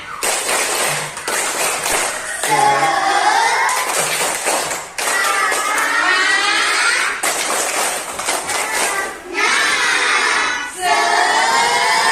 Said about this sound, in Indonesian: Gimana kita tepuk semangat dulu ya?